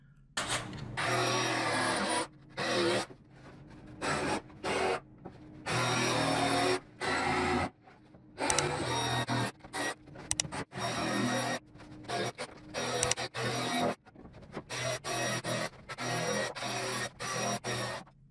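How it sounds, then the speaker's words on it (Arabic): A jigsaw cuts out the design of a wooden step chair in a series of loud, close buzzing bursts, each broken by short pauses as the blade stops and starts. "وهنقص التصميم بالاركت مع سلاح الصنديف"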